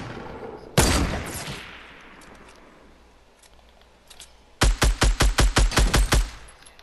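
Gunfire in Fortnite: one loud shot or short burst rings out and decays, then after a quiet stretch a rapid string of about eight evenly spaced shots fires close and loud.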